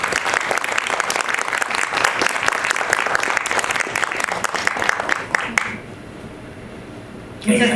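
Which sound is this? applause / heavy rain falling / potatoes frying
applause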